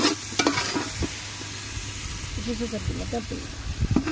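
Meat fries in mustard oil in a pan at an outdoor picnic, with a steady sizzle and hiss broken by scraping stirs, while people talk nearby over the cooking.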